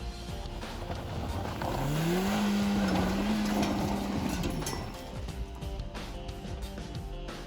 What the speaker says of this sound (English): Within just a second try, the car climbed up.